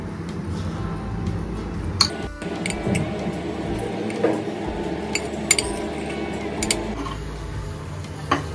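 Cheese, ground pepper and salt being mixed in a bowl with a spoon, giving repeated light clinks and scrapes of metal against the dish in an uneven rhythm, close up and without talk.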